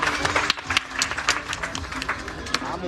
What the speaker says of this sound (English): Let's clap a hand for him and Eugene